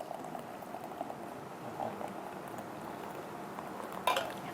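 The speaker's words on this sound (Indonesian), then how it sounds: "Kemudian kita tuangkan air panasnya perlahan-lahan." Hot water is poured slowly into a cup to make a Hania Juicy Fib fiber drink, giving a soft continuous liquid trickle, close and steady, with a brief clink of a utensil near the end.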